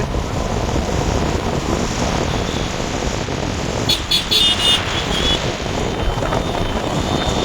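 Motorcycles riding along a crowded road on Eid day, a steady broadband engine and traffic roar close by, continuous throughout with brief higher whines from passing vehicles partway through.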